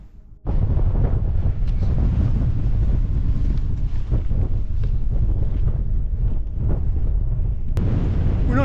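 Strong wind roars and buffets the microphone near the summit of Ling Fell, a 373-metre Lake District hill, loud and continuous after a brief quieter start.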